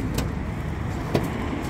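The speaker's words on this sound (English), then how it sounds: "You can turn the rear screen up" Rear tailgate window of a 2008 Nissan Pathfinder 2.5 dCi Aventura being raised, a steady low electric motor hum with a couple of brief clicks or thumps, fairly close and alone.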